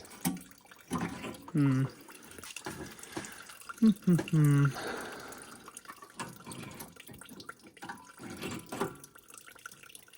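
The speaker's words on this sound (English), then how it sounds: "This thing's almost done draining." Old gasoline drains from the removed carburetor of a Toro PowerClear 518 ZE snowblower, a faint liquid trickle and dripping heard close by with a voice talking intermittently.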